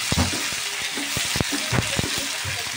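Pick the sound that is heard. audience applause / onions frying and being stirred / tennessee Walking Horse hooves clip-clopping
onions frying and being stirred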